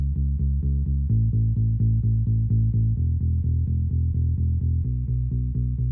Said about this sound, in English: here we have the bass coming in. It's like a bass guitar. It's the Rickenbacker bass, Contact.